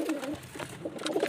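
Pigeons in a loft coo close by, a soft throaty rolling call repeated several times over about a second, including a Madras pigeon that has laid eggs.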